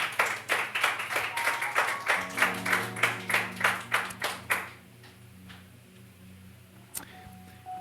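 A church congregation claps in a rhythmic unison beat for about five seconds, loud and close. The clapping then dies away, leaving a faint hum and one sharp knock.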